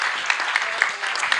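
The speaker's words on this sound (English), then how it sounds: "A round of applause to our panelists." Audience applause for panelists at the Laudato Si Africa Conference, a steady dense patter of many hands clapping with no break, close and fairly loud.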